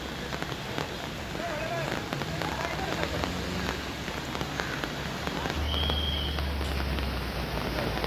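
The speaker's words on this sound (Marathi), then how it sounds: "भिवंडीमध्ये तुफानाचा पाऊस बरसतोय" Heavy monsoon downpour in Bhivandi's Chavindra area, with a steady roaring hiss of rain pounding a flooded street turned into a river, loud and unbroken; a low rumble swells near the end.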